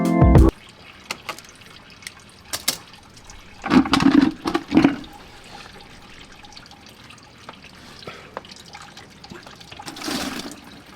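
Coolant draining from a Subaru WRX radiator during a radiator swap: intermittent splashing and trickling bursts of liquid, with a louder gush near the start and a few fuller pours, close by and without speech.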